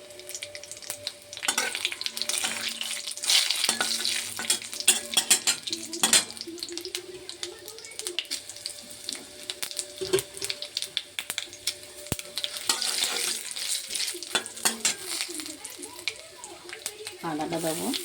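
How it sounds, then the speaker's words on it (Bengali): Asafoetida hits hot oil in a kadai with a steady sizzle, while a spatula scrapes and clinks against the pan in irregular stirring strokes, with a voice speaking at times. "হিংটা দিয়ে দেবো"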